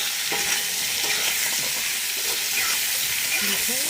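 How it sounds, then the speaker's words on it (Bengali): Continuous sizzling hiss of spices with turmeric and salt frying in a pan, with intermittent scraping strokes of stirring close by. "এটাকে একটু একটু ভাজাভাজি করবো"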